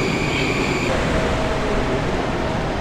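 A metro train rumbles loudly and continuously as a wagon is boarded, with a steady roar of wheels and ventilation and a faint high tone that fades partway through; no talking.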